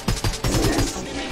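Rapid gunfire in a Minecraft game rings out loud and close, a quick run of sharp repeated shots that trails into a noisy wash of echo, with no talking.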